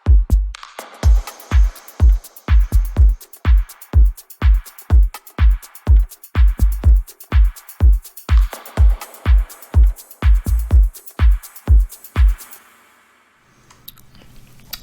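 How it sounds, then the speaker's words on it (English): Filtered deep house drums loop with reverb: a punchy kick on a steady four-on-the-floor beat, a shaker, a ride and a clap layered above it, then cut off near the end to leave a low tail. "Yeah, then together all of the drums sound like this"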